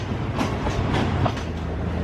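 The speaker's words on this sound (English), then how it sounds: "There's another train coming in now" A train rolls into a busy railway station in Pattaya, Thailand, its steady rumble joined by rhythmic clickety-clack of wheels over rail joints, moderately loud and close, with no voices.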